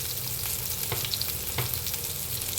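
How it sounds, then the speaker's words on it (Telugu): Oil frying in a pan on the stove, with turmeric added to the mix: a continuous, even sizzle with a few faint utensil taps, close and alone with no voices. "కొద్దిసేపు నూనెలో కొంచెం ఫ్రై"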